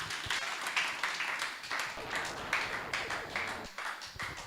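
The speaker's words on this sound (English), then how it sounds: "I think we can do a better clap, honestly." An audience claps at a water conference in Kenya, a steady dense round of applause that holds at moderate loudness without breaks, heard from within the hall.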